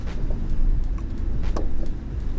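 Toyota Land Cruiser 250 hybrid crawling its driver-side tire up onto a big rock, a steady low vehicle rumble with a few brief creaks and knocks from the body and suspension, close and continuous.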